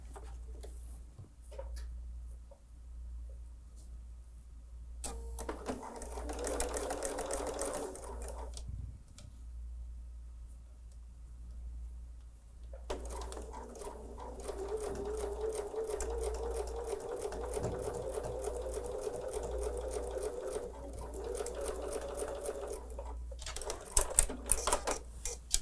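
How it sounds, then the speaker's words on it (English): A sewing machine stitches a quarter-inch seam along quilting fabric strips, humming steadily in two separate bursts with a pause between them and no talking. "And we will sew a 1/4 inch seam allowance."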